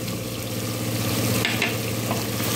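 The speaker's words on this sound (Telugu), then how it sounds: "వేసి బాగా నూనెలో వేయించాలి" Chili powder, coriander powder and spice mix frying in oil for mushroom biryani, a steady close sizzle with occasional stirring scrapes, no talking.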